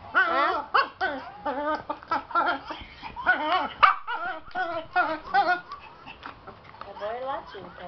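A dog yips, barks and whimpers in quick bursts at a phone playing a laughing-baby ringtone, close and lively, with people talking over it.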